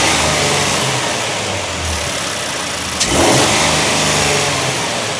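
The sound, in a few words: SUV engine revving with cold air intake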